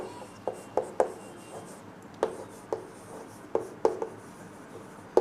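Pen or chalk writing on a board at close range, with a string of short, sharp taps and scratches in uneven clusters over a quiet background hum.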